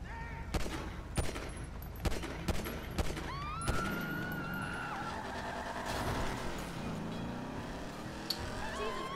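Rapid gunshots ring out in a video game's Director Mode street scene, a burst of sharp cracks in the first few seconds, followed by car engine and traffic noise as a vehicle drives and runs someone down.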